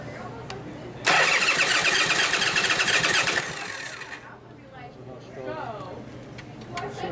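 A 1965 Harley-Davidson Panhead 74ci FLH with a Linkert carburetor cranks loudly on its starter for about two seconds, then drops away. Voices talk over and after the cranking.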